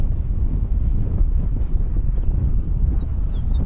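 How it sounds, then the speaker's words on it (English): Strong wind gusting across an open golf course, a steady broadband rush and buffeting against the microphone, continuous and loud throughout with no talking. "The wind was picking up. You can hear it right there."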